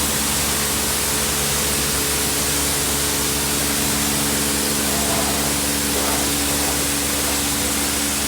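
High-pressure spray from an Istobal m'nex22 car wash machine: a constant loud hiss of water jets with a low pump hum underneath, unbroken throughout.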